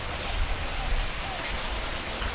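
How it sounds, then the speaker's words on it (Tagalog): A man-made decorative waterfall at the White Temple in Chiang Rai gives off a steady, even rush of falling water, a dense broadband hiss heard alone and continuous from start to finish. "Parang waterfall lang na man-made waterfall."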